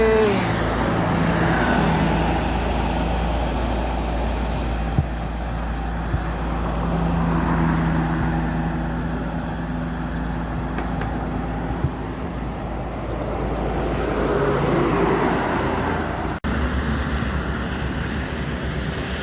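Bus rolling along a road amid traffic, a continuous loud engine and tyre rumble with a broad roar that swells and eases, a couple of sharp knocks, and no talk.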